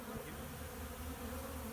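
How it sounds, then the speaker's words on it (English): Dense, steady buzzing of many honeybees around an opened hive in winter, a continuous close drone without speech. "What an incredible amount of bees."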